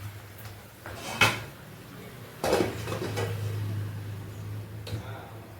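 Spicy Andhra chicken is stirred in a pot, and a lid is set on top. A few sharp metallic clanks and scrapes ring out at spaced intervals over a low background hum.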